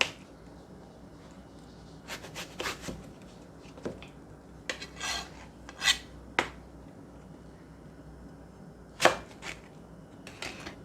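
A knife cubes an eggplant on a cutting board with sharp, irregular chops and blade scrapes, close and crisp, separated by brief pauses.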